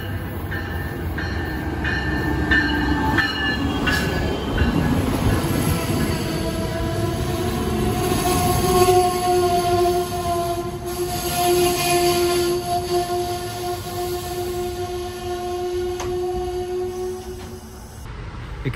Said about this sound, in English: The train needs to come soon. Here it comes.